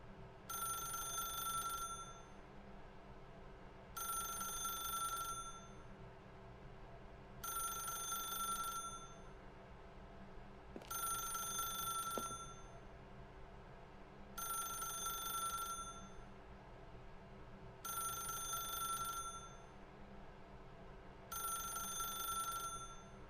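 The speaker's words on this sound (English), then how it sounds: "pick up the phone." A telephone rings in The Stanley Parable: Ultra Deluxe video game, seven regular double-trill rings spaced evenly with quiet gaps between, clear and alone with no talking.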